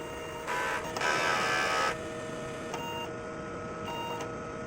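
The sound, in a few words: DTF printer running head cleaning cycle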